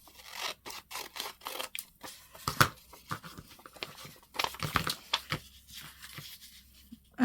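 Scissors cutting paper for a junk journal tag, close crisp snips and rustling paper in an irregular series of short cuts.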